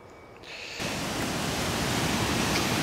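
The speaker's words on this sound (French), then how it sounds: "Et le ruisseau fait un boucan d'enfer, comme j'aime." A mountain stream rushing loudly at dusk near Mont Bellacha, a dense, steady roar of water that swells in within the first second and continues unbroken, close and with no voices.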